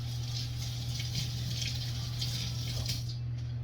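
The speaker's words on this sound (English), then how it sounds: "Let me wash my hands." Hands washed under a running kitchen tap give a steady, even rush of water with a low background hum, continuous throughout with no talking.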